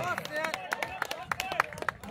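Crowd applause greets kabaddi player Mohammad Salman at a 2021 kabaddi tournament match between Jamdaha and Haryana. Scattered, fairly faint claps patter beneath an announcer's voice.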